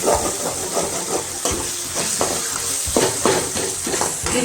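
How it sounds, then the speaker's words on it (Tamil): Tomatoes sautéing in a pan for a South Indian chicken curry, a steady close sizzle broken by repeated scraping stirs that come every second or so, with no talking. "நல்லா வதங்கட்டும். முதல்ல தக்காளி போய் நல்லா குழையணும்."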